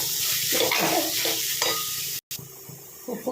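Spinach and carrot fry being stirred in a pan, a steady sizzle with scraping strokes throughout and a brief silent break near the end.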